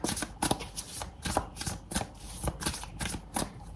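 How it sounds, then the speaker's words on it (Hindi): A deck of tarot cards is shuffled by hand, a steady run of soft riffling flicks and slaps repeating close up, with no talk. "3 इवेंट वापस से शफल करूंगी"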